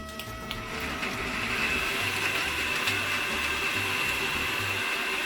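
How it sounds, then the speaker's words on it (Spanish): A blender whirs steadily, blending roasted tomatoes, green chiles, garlic cloves and water into a salsa, a continuous loud motor drone with churning liquid throughout, close by. "Y vamos a licuar."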